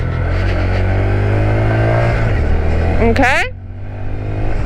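Honda Grom motorcycle engine droning loud and close at steady revs in fourth gear, then dropping off sharply as the rider eases down, with a brief spoken word near the end.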